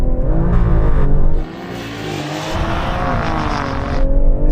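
A BMW M340i, Mercedes-AMG A45 and Alfa Romeo Stelvio QV launch in a drag race, loud engines revving and roaring close by, a brief drop and then a building howl as they accelerate together.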